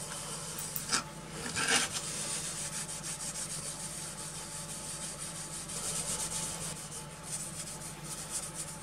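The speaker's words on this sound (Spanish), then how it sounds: "De nuevo uso la crema de pulir metales finos para obtener buena terminación en el cobreado." Fine metal polishing cream rubbed by hand over copper plating on a homemade nickel-plating piece: steady, close scrubbing strokes with a soft hiss, continuing without pause and carrying a couple of slightly louder passes near the start.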